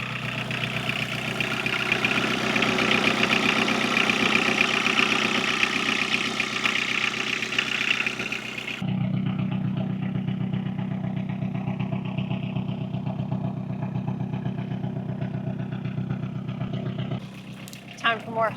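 A car engine idles steadily, its tone shifting partway through as the alternator switches on, leaving a heavier low drone to the end.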